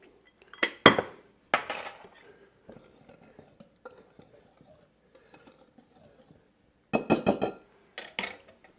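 Bread dough ingredients for homemade hamburger buns get stirred in a bowl, giving sparse clinks and scrapes of a utensil against the bowl in short bursts with quiet gaps between.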